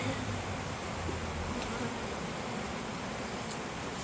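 Honeybees swarm around a beekeeper's head during a hive inspection, a continuous close buzz that hums on without pause and with no voices.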